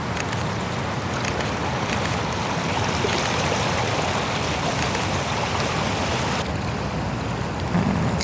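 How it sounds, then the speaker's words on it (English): Sea waves washing over a front rock in a rocky channel along the coast, a steady loud roar of rushing surf and churning water throughout, with a brief lull near the end. "I like it just as it's the waves going over this front rock."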